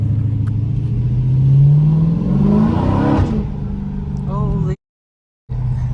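Muffler-deleted Dodge Scat Pack revving in track mode, a loud, close engine roar that climbs in pitch then falls away before cutting out briefly and returning; voices speak over it.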